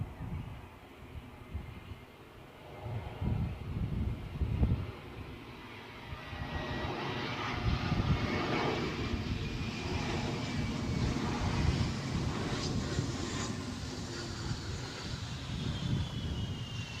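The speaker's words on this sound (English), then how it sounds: "It looks like we've got a centre line Embraer Legacy" An Embraer Legacy 500 business jet arriving at Guernsey Airport from Jersey, a distant engine whine and rushing roar that builds and lingers steadily, with a faint rising tone and some wind noise over the microphone.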